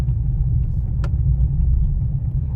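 A car creeps along slowly in first gear, giving a low, steady engine rumble heard from inside the cabin, with a brief faint click partway through.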